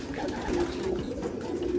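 Male pigeons coo softly in a loft, low repeated throaty calls rising and falling over a light background hum.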